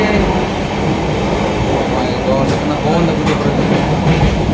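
A passenger train running on the Rayagada-Koraput railway line through tunnels gives a steady, loud, continuous rumble with rattling wheels and carriage noise, plus a couple of brief higher squeals partway through.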